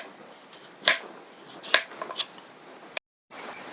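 A knife slices raw papaya into thin pieces in a few quick, crisp cuts close by, separated by short quiet gaps.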